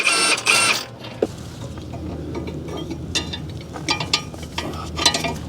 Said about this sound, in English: Just using the high torque Milwaukee here with a 21 millimeter stubby socket from Capri Tools.